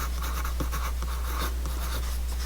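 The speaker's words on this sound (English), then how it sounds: "just to take a pencil and write on the back of your paper what your goal is" Pencil writing on the back of a sheet of paper during a neurographic drawing session, a steady scratchy scrawl with short strokes and brief pauses, close and continuous over a low background hum.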